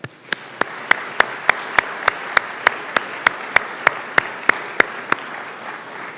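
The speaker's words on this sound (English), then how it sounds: "Would the audience please join me in a round of applause for the members of our faculty and professional staff." A ceremony audience applauds the faculty and professional staff at a pharmacy school white coat ceremony: a steady bed of crowd clapping with one loud, close pair of hands striking in an even, regular beat above it.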